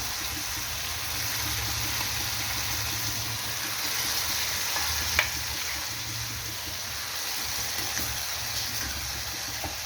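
Colocasia leaves sizzle steadily in hot oil in a pan, a continuous, fairly loud frying hiss with soft stirring scrapes underneath and one brief clink.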